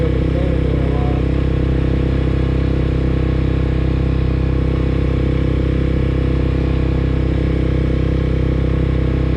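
A motorcycle on an afternoon ride holds a loud, steady engine drone throughout, close and constant with no clear rises or drops and no speech over it.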